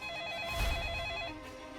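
Telephone ringing with a steady, sustained bell tone, fairly loud and close, heard alone with no speech.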